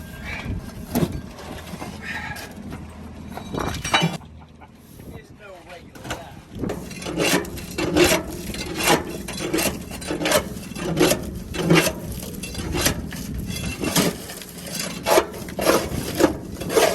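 A shovel scrapes rust off a steel deck in repeated rough, gritty strokes, close and loud, with a brief lull before the scraping resumes in a steady rhythm.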